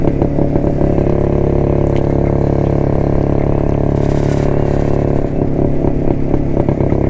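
A 1972 Jawa motorcycle engine heard up close while riding, a loud, steady two-stroke clatter with a rough, continuous rumble and no voices.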